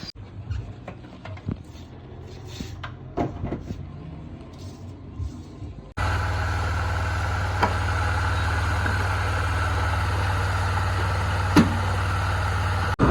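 A freshly repaired motorbike sits quietly at first with scattered clicks and light handling noises, then its engine catches and settles into a loud, steady, droning idle that runs evenly to the end.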